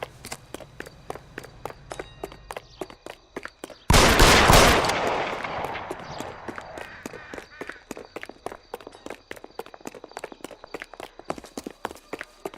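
Gunfire in the L.A. Noire video game: a sudden loud burst of shots with a long echoing tail, set among a steady run of clicking footsteps before and after.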